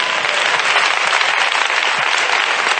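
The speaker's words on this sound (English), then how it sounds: "Clap your hands and give him praise." A church congregation claps loudly and continuously in praise, dense and even, with no gaps and no talking over it.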